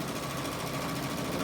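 A sewing machine stitching a fabric face mask over elastic runs in a loud, continuous rapid mechanical whir close by, with no talk.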